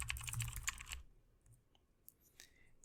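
Brief burst of rapid computer-keyboard typing entering text in a LaTeX document, clattering keystrokes for about a second before falling to near silence with a few faint clicks.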